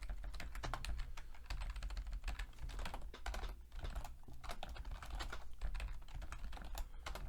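Rapid keystrokes on a computer keyboard during spreadsheet work, a steady flurry of soft clicks with brief pauses, close but quiet.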